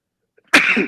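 A single sudden sneeze bursts out of near silence, close and fairly loud, with a short breathy tail.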